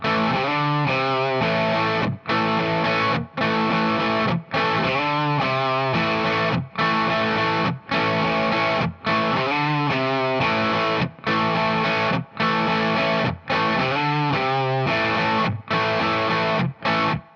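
A distorted electric guitar plays a riff, chugging repeated chord phrases with brief regular stops, loud and close with no one speaking.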